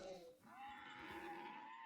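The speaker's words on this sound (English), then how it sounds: "we got a zombie horse. Listen." A zombie horse in the Minecraft Cobblemon mod gives a long, wavering, bleat-like groan that rises and holds, faint and tinny, carrying on without pause.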